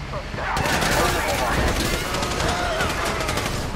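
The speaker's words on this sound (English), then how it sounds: "So I guess we're shooting our way out of here!" Dense rapid gunfire fills a shootout in Grand Theft Auto 5 during the Paleto Bay score, bursts of automatic weapons overlapping loudly and continuously after a brief quieter start.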